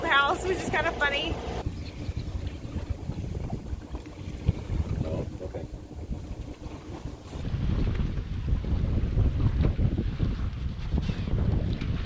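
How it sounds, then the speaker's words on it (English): A sailboat running under headsail and mainsail, with steady wind buffeting and rushing water around the hull, close and continuous, and voices faintly mixed in. "we're just rolling with our head sail and our mainsail right now"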